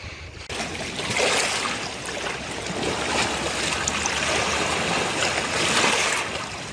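A river flows beside a small forest, a continuous close rush and trickle of water that swells and eases slightly, with no talk.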